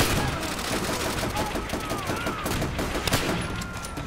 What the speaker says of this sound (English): I'm shooting at the wrong people